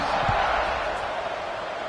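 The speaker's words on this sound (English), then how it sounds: "this crowd is buzzing after that last score" Stadium crowd in a college football video game with Virginia Tech against FAU, a continuous broad roar of buzzing spectators after a score, steady and fairly loud with a faint low thump near the start.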